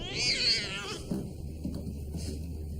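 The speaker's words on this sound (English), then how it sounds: "It's just a cat, Crabtree." A cat meows once, loud and close, in a quiet old manor room, followed by faint low rustling.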